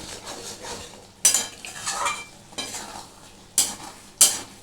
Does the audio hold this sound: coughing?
no